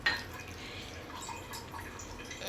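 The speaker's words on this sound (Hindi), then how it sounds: "सबसे पहले जो मैं इसका पानी अलग कर लूँगी" Water is poured off soaked rice with a faint, steady trickle of liquid close by, and a few soft drips and splashes come through.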